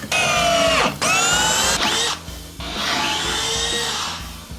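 A power drill drives long screws through wooden butt joints, several high whining bursts with short pauses, each slowing as the screw seats, close and loud with no talking.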